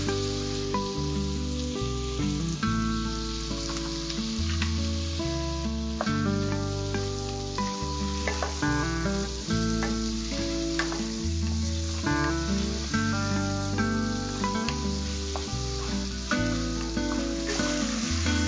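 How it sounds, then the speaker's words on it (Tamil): Grated ginger and garlic fry in a pan with an even, continuous sizzle and hiss, steady and close throughout, with faint stirring and no talking. "இதுல வந்து இஞ்சி பூண்டு திருகி வச்சிருக்கேன், அதை தான் போடணும்."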